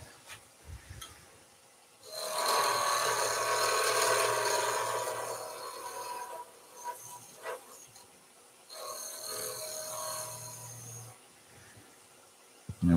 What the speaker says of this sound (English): So that parting tool again, just to give us our little recess.